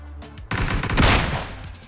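Close, loud gunshots from a weapon in the video game PUBG, a quick run of rapid shots building into a dense burst over about a second and a half.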